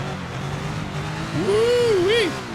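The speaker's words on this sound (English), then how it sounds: "that already just spinning the tires early on in the race" A stock race car in SRX: The Game roars with a steady engine drone, then rises into a loud revving whine that swoops up and down as the tires spin, close and dominant.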